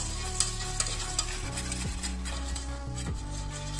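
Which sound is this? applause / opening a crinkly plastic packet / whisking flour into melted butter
whisking flour into melted butter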